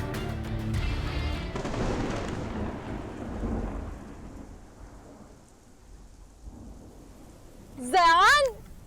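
Steady rain falling during a thunderstorm in the rainy season, a dense continuous wash with low rumbling beneath, while people talk over it.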